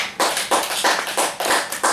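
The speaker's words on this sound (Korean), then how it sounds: "하나님께 영광의 박수 드리겠습니다" A church congregation claps together in a steady, even rhythm, about three claps per second, loud and close throughout.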